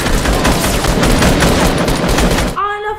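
Dense, loud automatic gunfire from the Fortnite video game rattles continuously for a few seconds and then cuts off abruptly, followed by a short burst of a voice.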